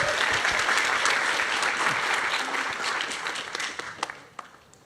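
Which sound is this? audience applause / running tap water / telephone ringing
audience applause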